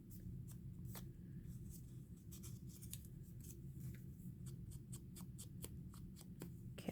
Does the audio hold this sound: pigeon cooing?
no